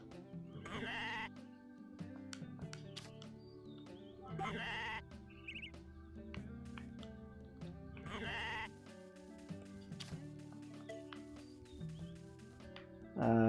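Sheep bleat repeatedly in the farm life video game Story of Seasons: A Wonderful Life, several loud cries spaced over a backdrop of tuneful game music, with no talking.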